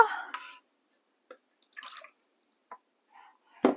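Water poured into a bowl while making tempura batter for fish, heard as a few short, close splashes and drips separated by quiet gaps.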